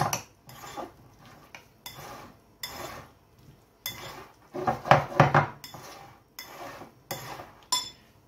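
A spoon or fork scrapes and clinks against a bowl while tomato tartare is mixed with olive oil, a run of close, separate strokes with short pauses, louder clatter in the middle, and no talk.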